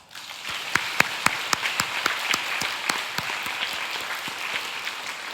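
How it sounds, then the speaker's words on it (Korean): A church congregation applauds together, a dense steady wash of clapping with several sharp, distinct claps cutting through near the front, sustained evenly throughout without any voices. "우리 하나님께 박수 한번"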